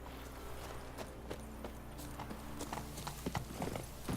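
Roach the horse trots along a road in The Witcher 3, with rhythmic clip-clop hoofbeats that grow busier toward the end, set over a soft game ambience, with no voices.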